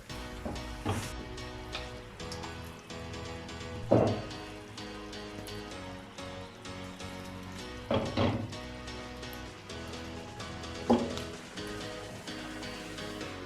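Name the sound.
stirring egg halwa with chopped almonds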